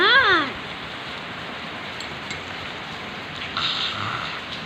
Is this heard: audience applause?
no